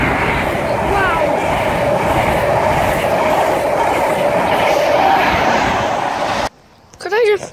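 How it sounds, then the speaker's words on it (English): A train rumbles past at Pencoed with a steady rushing, clattering roar that fills most of the clip, then drops away abruptly as a voice begins talking. "the train just went up there"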